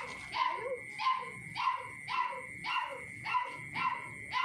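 A puppy kept in a cage whimpers and yelps again and again, eight or so rhythmic high cries in steady succession, fairly close and alone.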